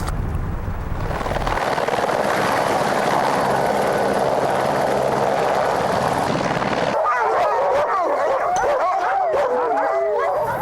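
Huskies of a glacier dog sled team bark and yip loudly near Juneau, Alaska, at first under a helicopter's droning roar, then alone as excited, overlapping howls and yelps.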